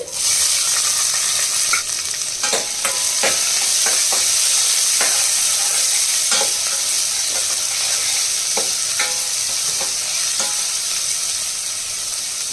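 Sliced onions and three green chillies sizzle steadily in hot oil in a pan, with a dense continuous frying hiss broken by occasional sharp stirring scrapes, close and alone without speech.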